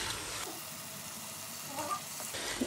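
Tomatoes, three medium ones, frying in hot oil in a pan for a dal chicken dish, giving a steady close sizzle throughout with a few small pops and no talking.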